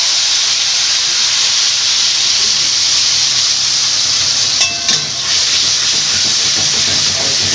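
Kashmiri chili powder and turmeric mixed together and dropped into hot oil for a fish curry, giving a loud, steady broadband sizzle and hiss that holds throughout, with a brief spattering burst near the end.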